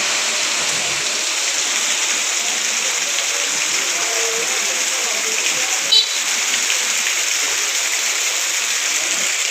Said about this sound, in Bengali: টানা বৃষ্টিতে জনজীবন বিপর্যস্ত